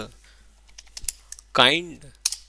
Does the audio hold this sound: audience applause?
no